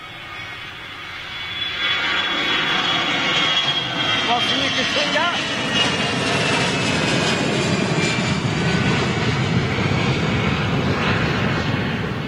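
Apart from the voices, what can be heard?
jet airliner undercarriage buffeting noise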